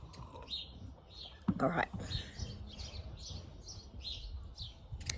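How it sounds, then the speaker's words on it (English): A pet bird chirps in a quick rhythmic series of short, bright calls, fairly faint and close, while a person speaks briefly and a sharp handling noise sounds in the middle. "you can hear him whistling. He's a beautiful bird."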